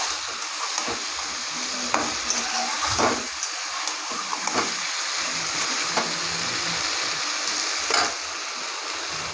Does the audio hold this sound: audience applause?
no